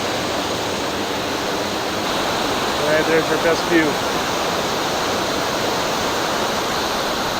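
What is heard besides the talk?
roaring waterfall in Wells Gray, British Columbia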